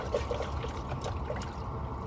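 Soapy water trickling and dribbling while dishes are washed in a truck cab, a soft continuous wet patter with small splashes, faint and close, no talking.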